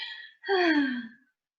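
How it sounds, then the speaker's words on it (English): A big, deliberate breath drawn in after a pause, a loud, close gasping inhale with a breathy, slightly voiced rasp, demonstrated during a talk on healthy breathing; a softer breath sound comes just before it. "then you take a big breath"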